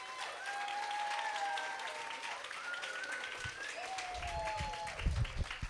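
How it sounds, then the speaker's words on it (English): Audience applauding at a school kindergarten stepping-up ceremony as the principal comes forward, a steady spread of clapping under tonal background sound and murmuring voices, with a few louder bursts near the end. "Can we give him a round of applause as he comes?"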